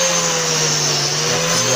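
Erbauer ERB372BJC biscuit jointer plunging its spring-loaded blade to cut a joint slot, a loud continuous high motor whine held steady and close.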